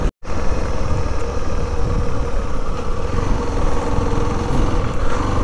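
A heavy motorcycle grinds along a rough mountain road, its engine a close, loud, steady drone with a juddering low rumble throughout, after a brief silent gap at the start.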